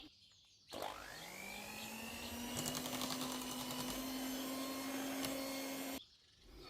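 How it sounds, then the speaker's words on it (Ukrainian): An electric hand mixer whirs up to speed in a bowl of cake cream made of whipped egg whites and custard, holding a steady, close motor whine for about five seconds before cutting off abruptly. "Так, перемішую його тепер міксером"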